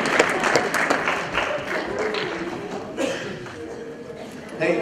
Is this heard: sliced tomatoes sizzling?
no